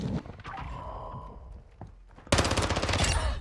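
Video game gunfire starts with scattered muffled shots, then breaks into a loud, dense burst of rapid automatic fire for the last second or so.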